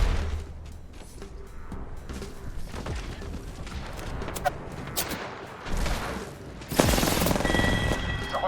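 Gunfire in the Apex Legends video game comes as scattered bursts of shots and impacts, with a loud, dense volley near the end and no talk.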